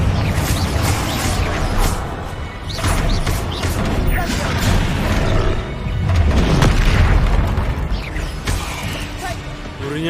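Confringo explosive spell blasts in the video game Hogwarts Legacy: dense, continuous booming and crashing impacts with rumbling low end, loud and sustained throughout, with scattered voices mixed in.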